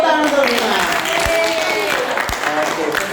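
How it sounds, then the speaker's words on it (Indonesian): A crowd applauds steadily throughout, a dense patter of clapping mixed with murmuring voices. "tepuk tangan untuk Bima."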